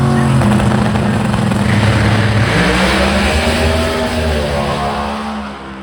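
Pro Modified drag racing car at full throttle, a loud, raw engine roar that holds steady and then pitches down and fades slightly as the car pulls away, with no talking.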